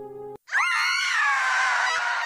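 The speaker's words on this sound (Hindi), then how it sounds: "अचानक एक जोरदार चीख सुनाई दी" A loud, sustained scream set in a Hindi horror story bursts in after a brief silence and holds at full strength, high-pitched and wavering, for nearly two seconds.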